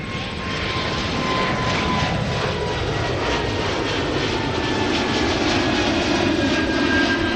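Delta Airbus A330-200 taking off from Minneapolis–Saint Paul airport, its jet engines producing a loud, steady, broadband roar that holds throughout with a faint tonal whine on top, no voices.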